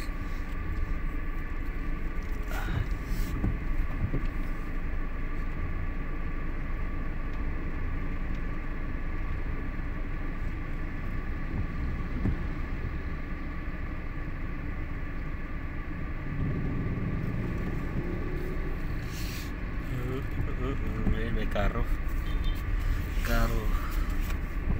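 Steady road traffic on a street in West Canada, cars crawling in a jam behind a funeral procession, with a continuous low engine and tyre rumble, occasional passing vehicles, and people talking nearby.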